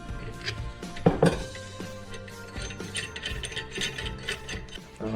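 A valve spring compressor tool fitting automotive-style split keepers on a Predator 224 engine, with metallic clicks, ratcheting and clinks of small parts, including a couple of sharper snaps, close and fairly quiet.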